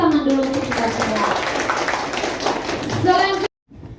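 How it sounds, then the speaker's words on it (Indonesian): A classroom of pupils claps together in a busy, close burst, mixed with children's voices and some shuffling, before cutting to a brief silence. "Kita tepuk tangan dulu untuk kita semua."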